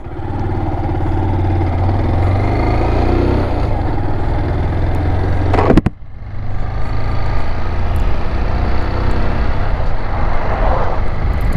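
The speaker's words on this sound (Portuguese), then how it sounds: "Vamos pegar a estrada aí com a Fan 160." A Honda CG 160 Fan motorcycle riding on a road in Pernambuco, its single-cylinder engine a steady buzzing drone heard alone, with a brief gear change or bump midway and wind noise.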